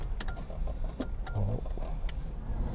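A Mercedes R129 300SL with a freshly repaired fuel distributor and a weak battery cranks and starts up close. Short mechanical clicks and bursts sit over a steady low engine rumble, with no talking.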